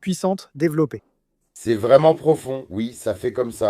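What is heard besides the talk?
No distinct noise like a dog, phone or traffic.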